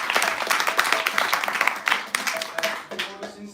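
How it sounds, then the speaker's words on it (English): Audience applause at a devotional gathering: a dense, steady patter of many hands clapping, loud and sustained for several seconds before thinning out at the end, with voices mixed faintly underneath. "let's give a big round of applause"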